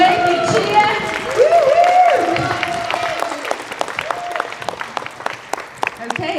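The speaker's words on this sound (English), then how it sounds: "Big cheer." A crowd at an outdoor opposition rally cheers and whoops to welcome a speaker, then breaks into sustained, brisk applause that grows sharper and more distinct toward the end.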